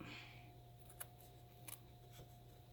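Scissors trim scrap felt for a miniature dollhouse cat bed, with a few faint, close snips, two of them in quick succession, over a very quiet room.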